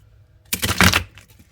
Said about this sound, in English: give it another shuffle